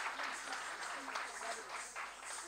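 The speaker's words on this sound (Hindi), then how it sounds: "कृपया जोरदार तालियां हो जाए" Audience applause at an award ceremony, a steady moderate wash of many hands clapping at a distance, with faint voices mixed in.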